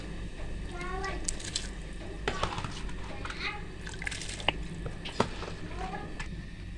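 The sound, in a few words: rice being added to boiling water for biryani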